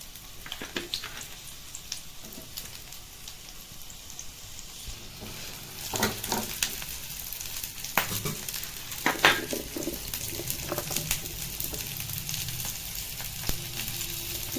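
Chopped onion frying and sizzling in a pan for a Bengali eggplant dish, a steady hiss that grows louder and busier partway through, with occasional stirring scrapes.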